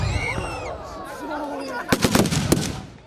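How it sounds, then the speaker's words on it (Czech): Small-arms gunfire at a WWII battle reenactment between Russian and German Wehrmacht units, with submachine guns, pistols and rifles: a quick cluster of sharp, loud cracks in the second half after a stretch of distant rumble and faint voices. "Areálem se ozývala i střelba ze samopalů, pistolí i pušek."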